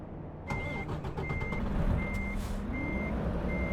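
A heavy truck reverses in American Truck Simulator, its backup alarm giving four or five evenly spaced beeps over a low, steady diesel rumble and a brief hiss of air.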